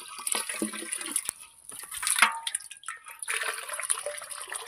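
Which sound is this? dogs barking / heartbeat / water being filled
water being filled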